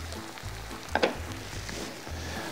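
Pork fillet cooks in a pot with a steady, close sizzle and bubbling, plus a couple of sharp clinks near the middle.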